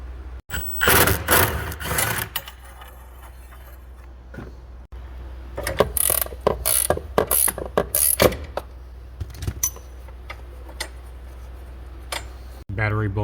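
Ratchet loosening the 13 mm bolts near the battery of a 2014 Porsche 911 Carrera S, heard as quick bursts of clicking pawl ratcheting with short pauses between them, close to the microphone and without talk.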